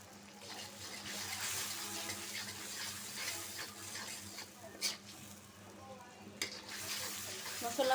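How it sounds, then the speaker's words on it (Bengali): Spice paste (masala) with salt being sautéed in a pan, a steady low sizzle with soft stirring scrapes and a couple of sharper knocks, close and quiet. "মশলাটা পাঁচ মিনিট কষায় নিই"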